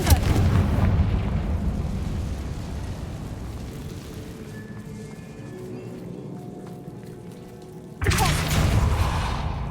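A Confringo fire spell explodes in the Hogwarts Legacy video game, a heavy rumbling blast that fades slowly over several seconds, then a second deep boom bursts loudly near the end.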